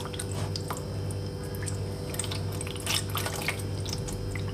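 Water poured into a cooking dish in a home kitchen, a steady splashing and trickling with occasional drips, close and continuous without talk.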